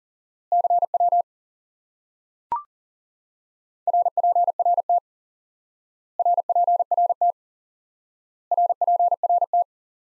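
Morse code CW tones sending QRX: clean, steady single-pitch beeps in four short groups of rapid repeated elements separated by pauses, with a brief click between the first two groups.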